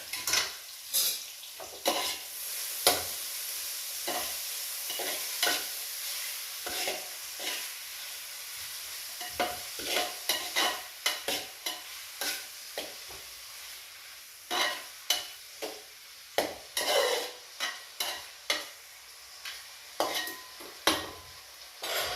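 Biryani masala being stirred in a pot after salt goes in: repeated scraping and clanking of a spoon against the pan over a quiet sizzle, in irregular bursts that grow busier toward the end, with no talking.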